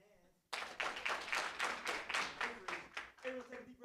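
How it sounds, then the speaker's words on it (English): A group claps hands in a fast, steady rhythm, loud and close, after a brief quiet start. "Everybody clap your hands."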